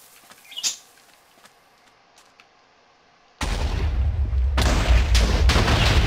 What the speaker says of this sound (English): And we can see all the explosions.